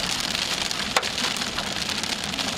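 Rain pours steadily onto a road during a severe Oklahoma thunderstorm, a dense, even hiss with hail rattling in and one sharper knock near the middle.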